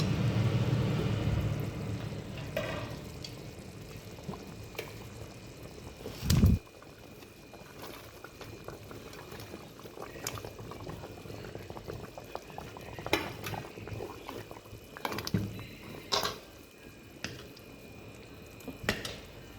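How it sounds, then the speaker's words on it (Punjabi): Punjabi kadhi bubbles in a pot with a continuous soft blub-and-pop boil, close and quiet, broken by a few louder plops and splashes as pakoras are dropped in. "ਇੱਧਰ ਕੜੀ ਆਪਣੀ ਪੱਕ ਚੁੱਕੀ ਆ ਬਸ ਹੁਣ ਇਹ ਚ ਆਪਾਂ ਪਕੌੜੇ ਐਡ ਕਰ ਦੇਣੇ ਆ"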